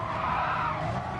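A Ferrari oversteers at Spa in a racing video game, its tyres letting out a loud, continuous squeal over the engine note for about a second.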